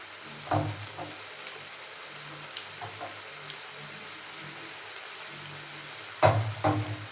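Puris fry in hot oil in a kadai, three at a time: a soft, steady sizzle close by with a few sharper splashes and bubbling bursts near the start and again toward the end.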